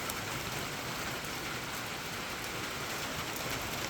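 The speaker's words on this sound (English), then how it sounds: "It is early in the morning and it is already raining." Steady rain falls outside a building on an early morning, a dense, even hiss of drops pattering on surfaces throughout with no pauses or voices.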